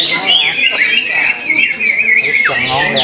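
Green leafbird (cucak ijo) singing close and loud, a continuous run of bright, varied whistles and chirps with sweeping rising and falling notes, some faint talk in the background.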